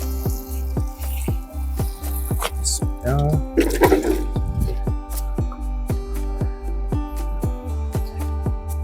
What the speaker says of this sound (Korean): 물 좀 뿌려주고